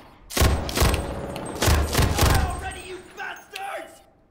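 Several heavy, booming gunshots fire in loose bursts in a video game, loud and close with short gaps, before fading toward the end as a voice talks.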